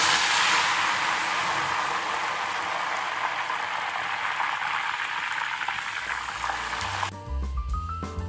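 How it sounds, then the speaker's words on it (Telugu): Coriander leaves fry in hot oil and ghee in a pan with a loud, dense, steady sizzle and crackle. Near the end a short burst of music cuts in. "ఇప్పుడు ఇందులోనే మళ్ళీ నేను కొత్తిమీర కూడా వేయించేసుకుంటాను"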